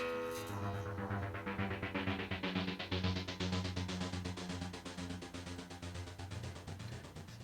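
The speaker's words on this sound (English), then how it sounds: "set to a square wave and a fairly low frequency to create the Doppler effect" A buzzy synth tone from a Boss SY-1000 pulses in a fast, regular low-frequency square-wave throb, its pitch wavering like a passing Doppler sweep, alone and steady.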